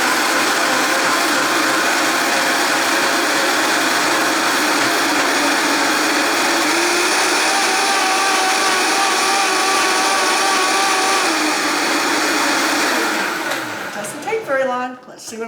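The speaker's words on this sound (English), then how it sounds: "now we're going to go over to my Vitamix blender here for the last step" A Vitamix blender whirs loud and steady, close by, as it purees soaked cashews with veggie broth for a creamy vegan mushroom barley soup, then winds down near the end.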